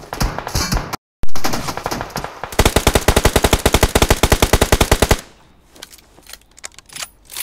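Rapid automatic gunfire from the battle-royale video game PUBG, a loud sustained burst of evenly spaced shots lasting a few seconds, preceded by mixed game noise and followed by quieter ambience.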